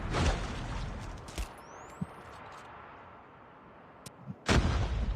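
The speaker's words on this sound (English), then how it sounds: "Seeing the grenades go out." Grenades exploding during a competitive video game match, two sharp booming blasts near the start and end separated by a quiet stretch with a few faint pops and a brief whistling streak.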